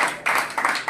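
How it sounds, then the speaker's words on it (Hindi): An audience at a public event claps to welcome a local mandal president, with loud, close bursts of applause rising and falling in quick waves. "स्वागत करें मंडल अध्यक्ष निर्दोष जी का तालियां बजा के"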